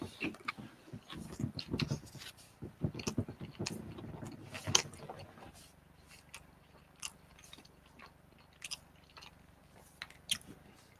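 Someone chews pizza close to the mic, with a few seconds of loud crunchy bites and wet chewing, then softer, sparser chomps and smacks at a low, intimate level, with no talking.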